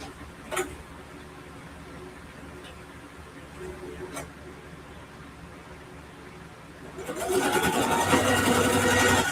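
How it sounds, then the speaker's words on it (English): A home sewing machine runs steadily through quilted backpack fabric for the last couple of seconds, loud and continuous, after a quieter stretch with only a few faint clicks and handling noises. "I'm gonna come in about another fourth of an inch from the line that I just sewed."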